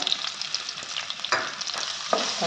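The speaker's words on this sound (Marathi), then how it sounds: "आता हिंग टाकायचे आणि हा कांदा जो आहे उभा चिरलेला तो टाकून बारीक गॅस करून परतून घेतला जरा कांदा" Vertically sliced onion sautéing with asafoetida in a hot pan on low gas for brinjal rice, giving a steady close crackling sizzle with a few sharper stirring scrapes and no talking.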